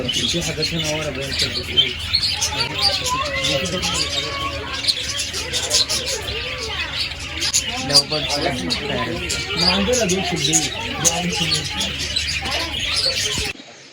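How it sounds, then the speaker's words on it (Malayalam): A busy chorus of budgerigars and parrots chirps and tweets nonstop, with soft cooing and faint background chatter from people nearby, at a children's farm in Sharjah Desert Park. "ഇവിടെ കുറച്ച് കിളികളുണ്ട് കേട്ടോ, ബബക, പാരറ്റ്."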